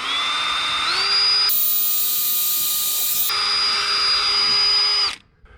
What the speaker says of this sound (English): for the board ends, drill a 1/4 inch hole,